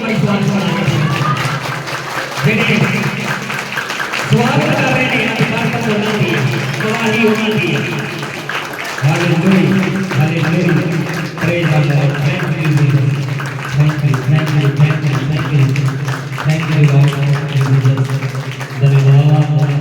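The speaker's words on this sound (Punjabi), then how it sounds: "ਜੋਰਦਾਰ ਤਾਲੀਆਂ ਦੇ ਨਾਲ" A church congregation claps loudly in a steady rhythmic beat, layered with loud singing and spoken voices that run throughout.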